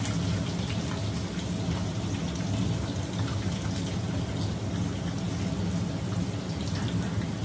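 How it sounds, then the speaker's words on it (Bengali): Chopped onion frying in a pan for a tribal traditional dish, a dense, even crackling sizzle that holds steady and loud throughout, close by, with no speech. "এই কুচানো পেঁয়াজটা একটুখানি ফ্রাই করে নেবো লাল করে"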